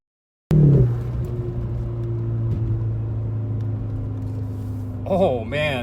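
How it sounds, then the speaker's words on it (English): A Mercedes C250 with a JB performance tune pulls away from a stop, its engine rumble starting suddenly and building steadily up close inside the cabin before rising near the end. "You could feel the turbo spooling and just going."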